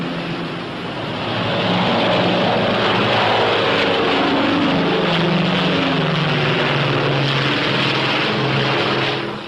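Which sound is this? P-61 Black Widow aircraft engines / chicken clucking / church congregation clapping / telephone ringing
P-61 Black Widow aircraft engines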